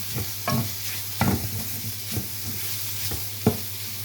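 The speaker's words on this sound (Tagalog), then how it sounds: "Ito yung patatas. Pinan-fry ko muna siya bago itong karne." Potatoes fry in a pan ahead of ground meat, a constant close sizzle broken by several scraping stirs of a utensil.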